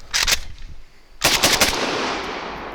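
A Century Arms Draco pistol fires a quick volley of loud, close shots outdoors, then a short pause and a second rapid string ending on the last round, the reports trailing into a long fading echo.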